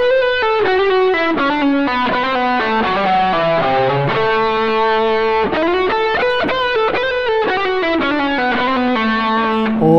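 Electric guitar with distortion and effects plays a lick, a steady stream of sustained, sliding single notes and bends lasting the whole stretch, loud and upfront with no talking.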